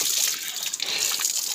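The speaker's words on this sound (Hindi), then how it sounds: "अभी पानी से थोड़ा मुंह धो लिया है" Water splashes and trickles continuously at close range as someone washes their face, a bright, busy wet rush with no talking.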